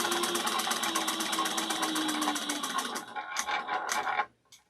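Sewing machine stitching cork or Craftex material for a small bowler bag, a steady rapid whir of needle strokes for about three seconds, then a few short separate bursts before stopping.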